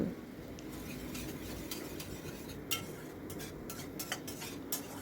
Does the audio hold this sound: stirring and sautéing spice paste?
yes